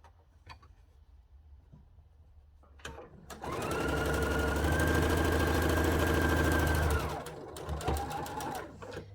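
A sewing machine stitching the seams of a quilt panel, starting after a few quiet seconds and then running steadily with a loud, even motor whir for about four seconds before slowing and stopping.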